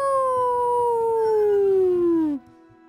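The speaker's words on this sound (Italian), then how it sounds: "Si sentono in lontananza gli ululi dei lupi." A single long wolf howl, loud and sustained for over two seconds, gliding slowly downward in pitch before breaking off abruptly into near silence, with faint noise beneath.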